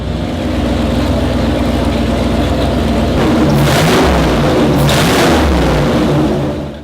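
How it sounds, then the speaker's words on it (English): A Ford 351 Cleveland V8 running on an engine dyno, loud and close, a deep steady rumble that swells in two brief revs partway through before settling, with no voices. "The 351 is making all the right noises and would seem to be ready to test."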